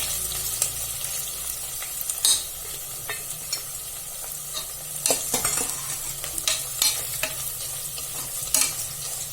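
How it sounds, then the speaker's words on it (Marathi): Cashews fry in oil inside a pressure cooker, giving a steady low sizzle broken by scraping stirs and light clinks of a spoon. No one speaks. "काजू टाकूया आपण ते तेलात आपण फ्राय करून घेऊया"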